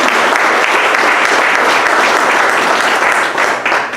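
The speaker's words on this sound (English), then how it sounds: "Let's give him a big hand of applause." A forum audience claps in loud, sustained applause, a thick continuous roar of many hands that holds steady before easing slightly at the end, with no speech.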